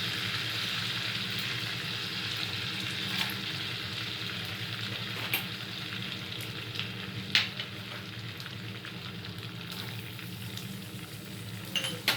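Ghee frying in a pan for an orange halwa, with spices and raisins, a steady soft sizzle throughout with occasional small clicks and taps, no talk.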